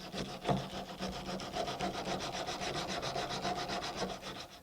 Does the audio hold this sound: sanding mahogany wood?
yes